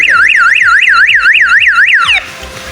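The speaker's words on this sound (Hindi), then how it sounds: "उस सूरत में यहाँ पे इसका सायरन बोलना शुरू कर देगा।" An electric fence alarm siren on a newly installed perimeter fence system wails loudly in fast, regular rising-and-falling sweeps for about two seconds, then cuts off abruptly, leaving background noise.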